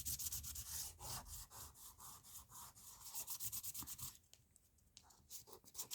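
Steady rhythmic scratchy rubbing of an emery board, quick back-and-forth strokes, close and fairly quiet, with a brief lull near the end.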